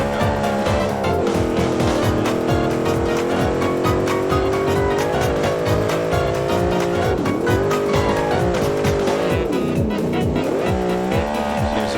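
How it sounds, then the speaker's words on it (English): A British-style sports car runs at very high speed, its engine screaming loud and close through rapid shifts, then tires squeal sharply as it brakes hard. "150 miles per hour. 170 now. And brake."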